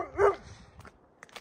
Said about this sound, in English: What are you barking at, bud?